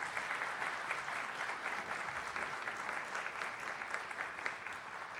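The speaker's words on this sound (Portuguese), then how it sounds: "Palmas para os nossos palestrantes de hoje" Audience applauding the day's speakers at a talk, a steady wash of many people clapping together, fairly distant and even in loudness throughout.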